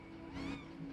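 A kitten meows once, close and clear, a short rising-and-falling cry over a steady background hum.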